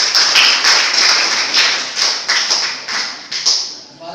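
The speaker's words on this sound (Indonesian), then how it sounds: "berikan tepuk tangan yang meriah kepada Dewan Juri kita" An audience applauds the jury at a university accounting students' project showcase, a steady burst of claps with rhythmic surges, close and fairly loud.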